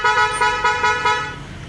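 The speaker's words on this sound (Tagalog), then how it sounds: "G-Star horn." Aftermarket G-Star horn on a Honda Airblade 150 scooter sounds five quick, loud, close honks in a steady rhythm, followed by a short tail.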